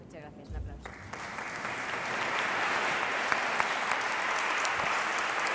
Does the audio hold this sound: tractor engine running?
no